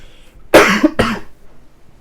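A teacher gives two sharp, close coughs in quick succession during a science lesson on microorganisms, then falls quiet.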